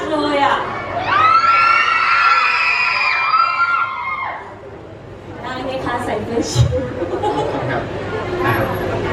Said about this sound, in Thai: แหมน้องผู้ชมขนาดนี้ทำไมกรี๊ดเบามาก